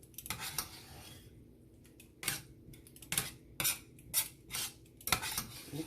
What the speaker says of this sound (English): Mix that up.